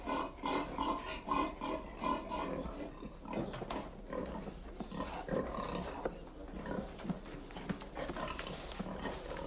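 Pigs grunt and snort repeatedly at close range in a medieval courtroom film scene, a rough, continuous series of squealing grunts with no speech.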